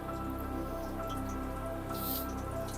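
Chhana puris frying in low-heat oil give a soft, steady bubbling sizzle with scattered droplet pops, continuous and close.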